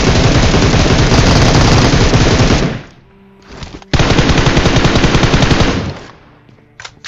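M762 rifle fire in a PUBG-style video game comes in two long, loud, rapid automatic bursts separated by a short pause, close and unbroken, with no talking.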